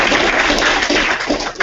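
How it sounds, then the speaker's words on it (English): Short burst of audience applause at a talk, dense and loud, fading near the end. "So round of applause for Steve"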